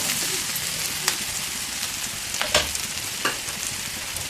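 Broad beans fry in plenty of oil for a curry, a constant crackling sizzle up close, with a few sharp spatula taps against the pan and no speech.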